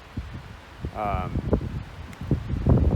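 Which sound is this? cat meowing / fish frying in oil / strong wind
strong wind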